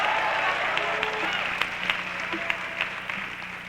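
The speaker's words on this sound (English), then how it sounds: "Thank you for that warm applause there." Fairly quiet applause from an audience at a high school fine arts assembly, a soft, steady patter of clapping with a few sharper individual claps standing out near the end.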